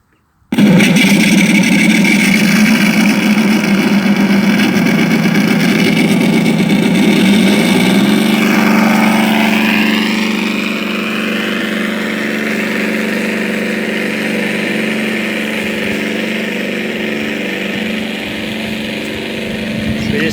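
A radial engine on a T-28 Trojan model aircraft starts and runs steadily and loud up close, its pitch shifting partway through before it settles into an even drone.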